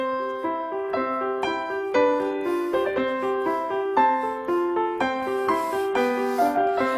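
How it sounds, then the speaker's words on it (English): A 7-year-old child plays piano, notes one after another at a moderate, steady pace, forming a simple melody with occasional chords, with no voices. "what a 7-year-old child sounds like when he plays the piano"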